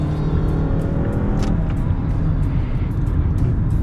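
A Mazda CX car engine roars steadily at high revs, loud and close, with a constant droning rumble and no talk.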